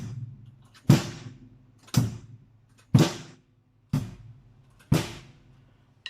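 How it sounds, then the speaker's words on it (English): A steady drum pattern of five strong hits about a second apart, low kick thumps layered with bright crashing snare and cymbal wash, close and loud. "The dance beat, when you hit the snare, add another kick into it. Sounds like this."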